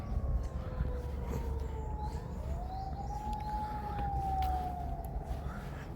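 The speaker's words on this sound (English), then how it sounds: "You can hear the ambulance or police, I don't know which one." A distant ambulance or police siren wails and slides in pitch over steady outdoor background noise at Tokyo's Imperial Palace grounds, with faint birds now and then.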